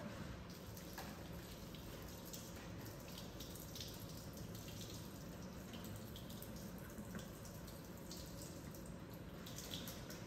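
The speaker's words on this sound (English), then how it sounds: "And the water drips off your elbows" Tap water runs steadily into a sink while hands are rinsed during a gowning and hand-washing routine, a faint, even, unbroken splash with no voices.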